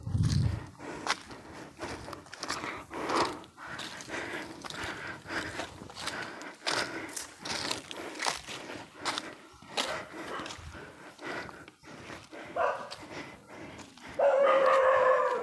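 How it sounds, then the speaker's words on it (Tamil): A dog in a tribal hill village gives repeated sharp barks amid scuffing, clattering and rustling activity nearby, with a brief higher tone near the end; moderately close and busy throughout. "மறுபடியும் அங்கே நம்மளை நாய் கூப்பிடுது."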